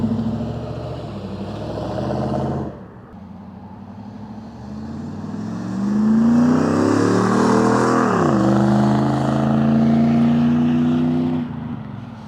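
A 1995 Camaro Z/28 V8 idles nearby, then revs hard and roars past in loud flybys, its engine note rising and falling with a steady rumbling tail.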